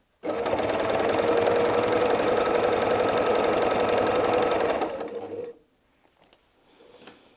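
A sewing machine runs in one continuous, fast rhythmic burst for about five seconds while quilting heart-shaped arcs into fabric, then stops abruptly, leaving quiet handling noise.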